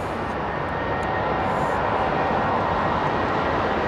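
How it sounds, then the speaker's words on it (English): Jet airliner engines roar continuously at Heathrow as a plane departs, a loud broadband rumble filling the whole stretch without letup and no voices. "listening out to all the growls and screams of the engines"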